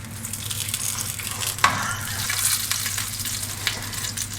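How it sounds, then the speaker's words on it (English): Sausages browning in oil in a pan, with a steady, close sizzle running throughout and a sharp clink of utensil or pan near the middle. "Your sausages should be starting to brown off now."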